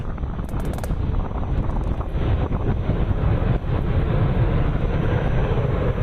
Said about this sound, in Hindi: आसमान में गरज धमक सब कुछ सुखोई की सुनाते हुए